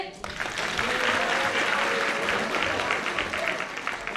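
An audience at a high school freshman ball in Moinești applauds an award winner, a loud sustained roar of clapping and crowd noise with voices mixed in throughout.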